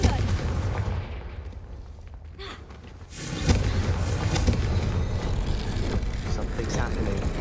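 A Confringo blasting spell goes off in Hogwarts Legacy, a loud rumbling burst with heavy low boom around the three-second mark, followed by sustained crackling game ambience.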